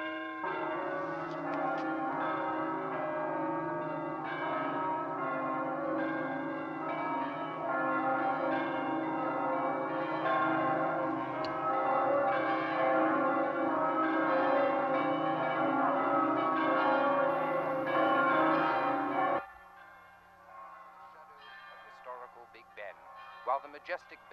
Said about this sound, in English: Majestic bells of St. Paul's Cathedral toll the passing of Patricia Kramer